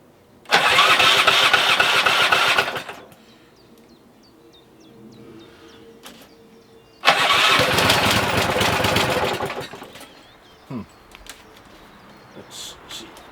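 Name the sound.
Stiga Collector SE 1992 lawn mower engine running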